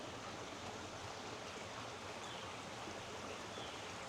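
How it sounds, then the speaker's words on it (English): A powerful water return pours into a backyard pond, giving a steady, unbroken rushing hiss at an even level throughout, with no voices. "The water return is very powerful"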